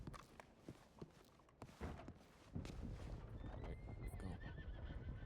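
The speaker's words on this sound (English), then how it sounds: "It sounds like a lot of horses." Many horses in a video game neigh and whinny while their hooves clip-clop. The sound is fairly faint and grows denser and more continuous partway through, with no talking.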